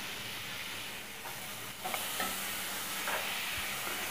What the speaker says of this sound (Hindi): ये एक मीडियम साइज़ का प्याज है, इसे मैंने बारीक चॉप कर लिया, वो हम इसके अंदर ऐड कर देंगे और इसे इतना पकाएंगे कि इसका कच्चापन निकल जाए